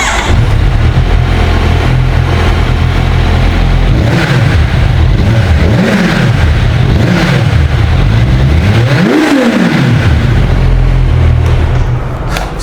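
A loud, close four-cylinder Kawasaki Z 1100 motorcycle engine runs steadily and is revved sharply several times, each rev rising and falling back to idle.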